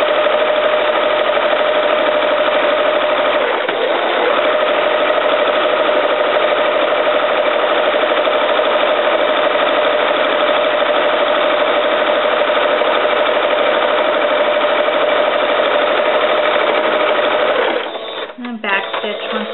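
Sewing machine stitching a seam on a T-shirt, a loud, steady whirring run for most of the time, with a brief pause early and the motor stopping near the end.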